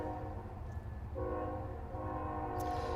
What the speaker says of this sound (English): I started just talking over the train because anyway.